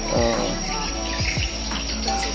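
Chirping, twittering swiftlet calls played from a recording repeat in quick bursts over a steady high hiss, moderately loud and close.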